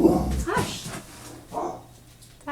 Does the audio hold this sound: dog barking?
yes